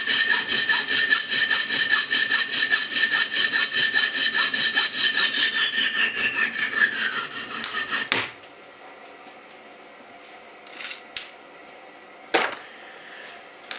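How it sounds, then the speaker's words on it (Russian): A steel bolt being shortened with a hand saw, rapid rhythmic rasping strokes that ring and slow before stopping abruptly, followed by a few faint clinks. "Все, болт отпилен."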